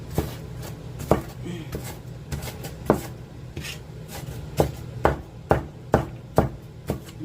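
A sharp kitchen knife chops onions on a board while fried bread is prepared: crisp, separate knife strikes come at an uneven pace, then settle into a steadier run of close chops.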